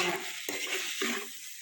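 Prawns fry in a pan with a continuous close sizzle, broken by a couple of brief scraping stirs against the metal.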